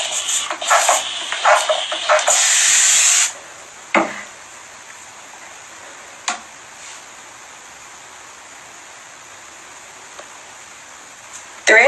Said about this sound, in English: spray water inside and kind of work it in